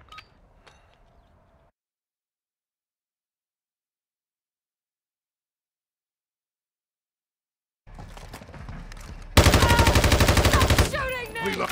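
Rapid automatic gunfire in Call of Duty: Modern Warfare 2 comes as a dense, loud burst of shots after a brief quiet stretch, with faint battle noise around it.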